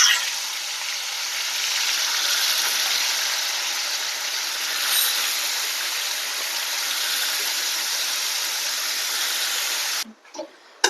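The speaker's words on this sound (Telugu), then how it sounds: "ఇది వేడైన తర్వాత మ్యారినేషన్ చేసుకున్న చికెన్ వేయాలి." Marinated chicken hisses in hot oil spiced with cardamom, cloves and cinnamon, a loud continuous close sizzle that cuts off abruptly near the end, leaving a few faint clinks.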